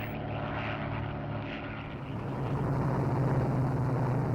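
Propeller-driven Soviet fighter planes fly overhead in a steady, droning engine rumble that swells slightly louder partway through, with no voices.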